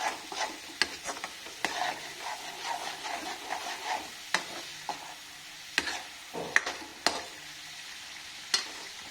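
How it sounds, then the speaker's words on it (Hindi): Ginger garlic paste sautéing in a pan for matar paneer, a soft low sizzle broken by repeated sharp clicks and scrapes of a spatula stirring, close and fairly quiet. "अब डालेंगे अदरक लहसुन का पेस्ट। और इसको हम भूनेंगे।"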